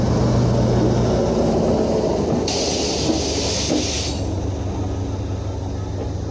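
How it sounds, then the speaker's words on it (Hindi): A Nepal Railway train engine rolls past Baidehee railway station with a loud, steady rumble and a burst of hissing spray partway through, heard close by. "और ये रहा इसका इंजन,"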